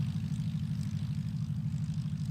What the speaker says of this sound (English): Let's watch these planes.